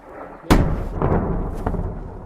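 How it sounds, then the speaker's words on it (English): A sudden heavy boom of an explosion in Kyiv hits, followed by a rolling, reverberating rumble with a couple of smaller thuds, echoing as if from some distance. "We just heard an enormous explosion here towards the north of where we're standing"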